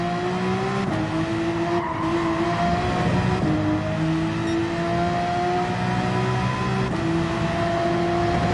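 Race car in Gran Turismo 7 at Willow Springs, a loud engine climbing through repeated gear shifts with rising whine between shifts, plus tire noise, close and continuous.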